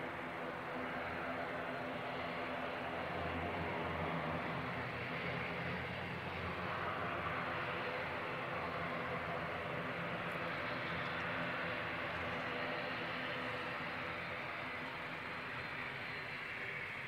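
Steady, distant jet engine rumble from an aircraft taxiing toward the runway at Christchurch Airport, a broad continuous roar that holds level throughout with no voices.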